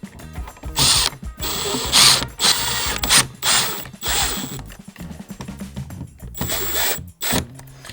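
Screws being driven into an electrical switch while adding a closet outlet, heard as repeated ratcheting, clicking bursts of tool and metal handling, close and fairly loud, with brief pauses between turns.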